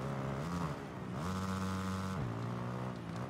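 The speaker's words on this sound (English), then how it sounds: "the bike sounds are just not revving very high" Motocross bike engines in the MXGP 2019 video game drone in a steady, fairly low rev, with pitch sliding down and up between gear-like shifts and no talk over them.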